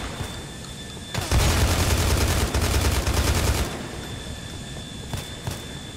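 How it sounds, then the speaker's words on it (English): Heavy gunfire in GTA IV with the LCPDFR police mod: a dense, sustained fusillade of rapid shots lasting a couple of seconds, loud and close, then tapering off into scattered distant shots over background ambience, with no talk. "Christ, heavy fire."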